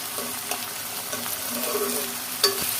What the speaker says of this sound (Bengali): চিংড়ি মাছটা একসাথে একটু ভেজে নেবো